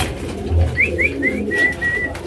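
Pigeons for sale coo softly nearby in a short series of rising, throaty notes over a low background murmur.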